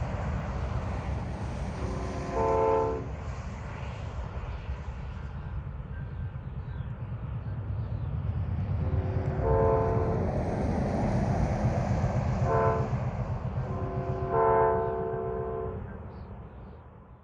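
An Amtrak passenger train runs on a Union Pacific line, its diesel rumble rolling steadily while the horn sounds several long blasts in a repeating pattern, moderately distant.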